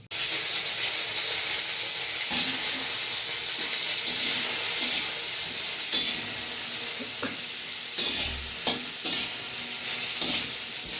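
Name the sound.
broccoli lightly frying in oil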